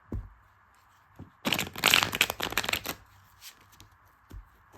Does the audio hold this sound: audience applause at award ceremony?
no